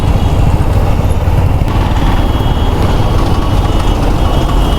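Road traffic on the way to Yadagirigutta makes a dense, loud, continuous roar of engines from trucks and other vehicles, with a faint beeping on top. No one speaks.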